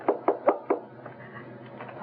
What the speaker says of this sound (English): Someone knocked at that door we came in.